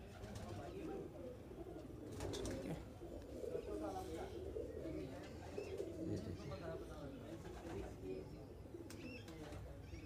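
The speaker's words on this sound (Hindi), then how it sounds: "ऐसे कबूतर है ये" Madrasi pigeons in a Delhi loft coo in soft, overlapping low calls, a steady murmur close by with faint chirps mixed in, under ongoing nearby talk.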